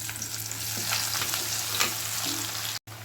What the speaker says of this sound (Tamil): எண்ணெயில் நல்லா பொரிஞ்சு வரட்டும்.